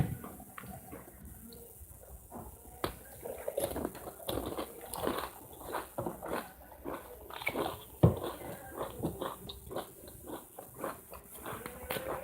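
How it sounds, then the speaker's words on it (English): Someone munches and chews food close to the microphone, with irregular crunchy bites and mouth sounds repeating for several seconds, fairly quiet and with no talk. "I hope you cannot hear this munching"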